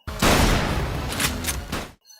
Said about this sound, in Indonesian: Misi dimulai dengan tembakan Usagi